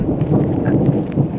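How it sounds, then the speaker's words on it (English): Thunder rumbling through a thunderstorm heard from under a tree in an open field, a continuous low roll mixed with steady rain hiss, close and fairly loud, with no talking. "Do you hear this thunder?"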